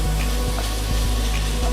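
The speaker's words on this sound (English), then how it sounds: "now that the pork and pancetta is coloured, in we go with the beef" Beef frying in a pan with browned pork and pancetta, a loud continuous sizzle with a few soft stirring knocks.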